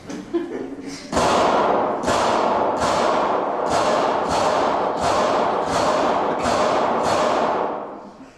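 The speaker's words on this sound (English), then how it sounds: "Let's shoot some books." Gunshots fired into big books, a steady series of about eight loud, evenly spaced heavy thumps following a brief stretch of quiet talk.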